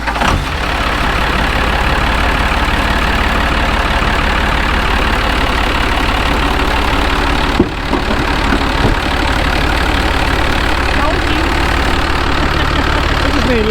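A 1970 Ford Wrecker truck engine runs steadily at idle, a continuous low rumble that stays even throughout, with a brief dip partway.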